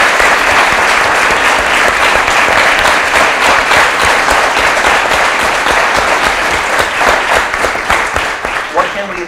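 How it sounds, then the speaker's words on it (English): Loud, sustained applause from an audience honoring students and their teacher after a performance, dense clapping throughout that thins slightly toward the end, with a voice over the clapping. "So another round of applause for you and for your teacher."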